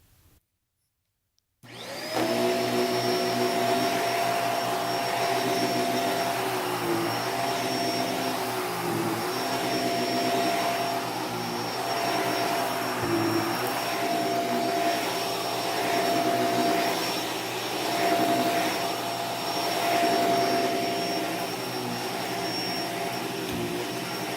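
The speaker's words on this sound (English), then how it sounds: "I'm gonna vacuum it first" A Hoover Basic Power Scrub Deluxe vacuum cleaner switches on after a brief moment of quiet and runs loud and steady on carpet with a high whine, its pitch wavering slightly as it moves.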